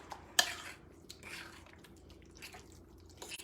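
A mixture in a bowl is stirred with a utensil, giving soft, wet, squelching scrapes and a sharp clink at the start, quiet and close, repeating in an uneven rhythm.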